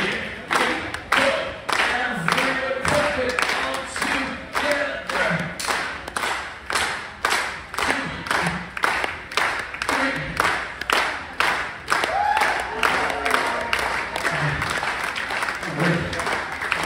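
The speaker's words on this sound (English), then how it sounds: "Everyone, give me a slow hands clap together." A cruise ship audience at sea claps in slow unison, each loud synchronized clap evenly spaced about half a second apart and continuing steadily, with voices and crowd murmur between the beats.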